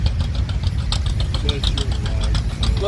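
A 1917 Nichols and Shepard steam traction engine runs at a steam show in Ash Grove, Missouri, giving a steady, rapid chuffing and knocking rhythm with mechanical clatter, close and fairly loud against a low rumble.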